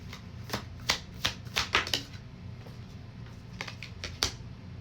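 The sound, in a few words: shuffling a tarot deck and drawing a card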